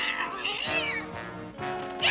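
A cartoon cat meows and caterwauls in an animated Smurfs episode, a drawn-out, wavering yowl heard clearly over a faint music backdrop.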